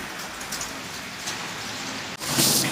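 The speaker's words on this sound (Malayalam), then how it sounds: "മഴയാ" Steady rain falls outdoors in a dense, even hiss with no talk, then briefly drops away before returning, louder and brighter.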